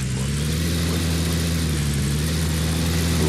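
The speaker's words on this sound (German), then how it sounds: "Motor wieder an." A vehicle engine idles in Gold Rush The Game, a gold-mining video game. The motor gives a steady, loud, low drone with a constant hum and no change in pitch.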